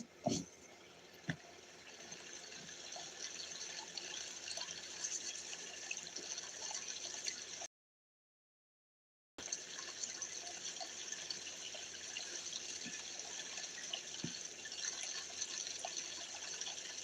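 Water from an outdoor creek runs in a soft, steady trickle, faint and continuous, with a few small knocks near the start and a short gap of complete silence partway through.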